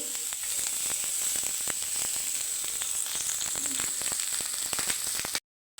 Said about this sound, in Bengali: গ্যাস কমিয়ে দেয় বেগুনগুলোকে এইভাবে ভেজে দিবে